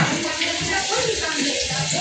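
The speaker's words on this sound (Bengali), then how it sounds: "শ্যাওলা বসেছিল সেই জন্য মা এখন ধুচ্ছে ভালো করে, যাতে শ্যাওলাগুলো চলে যায়।" Water running and splashing continuously while something is being washed to clear off moss, a close, hissing, uneven flow with faint voices in the background.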